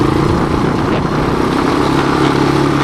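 A 1986 Honda TRX200SX ATV engine runs steadily while being ridden on soft ground, a loud, continuous motor drone close up with no pauses.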